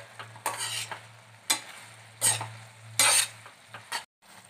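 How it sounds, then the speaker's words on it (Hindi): Macaroni being stirred and fried in a pan, with repeated rhythmic scraping strokes of a spoon over a constant sizzle and a low hum, stopping near the end. "और इनको हम अच्छे से मिला लेंगे। और इसको हम भून लेंगे 4 से 5 मिनट तक।"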